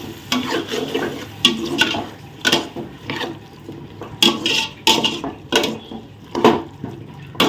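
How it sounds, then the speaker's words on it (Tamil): Curd being stirred into vegetable biryani in a pot, a series of wet scraping and squelching strokes in an irregular rhythm, close and moderately loud with short pauses between stirs. "இப்போ அந்த தயிரை வந்து நல்லா மிக்ஸ் பண்ணிடுவோம்"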